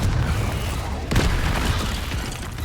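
A Confringo fire spell bursts in Hogwarts Legacy, a single loud boom about a second in that rolls into a rumbling tail over steady game ambience.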